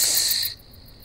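Crickets chirp in a dense, high shimmering trill that is loud and close for about half a second, then drops away to a faint lingering tone.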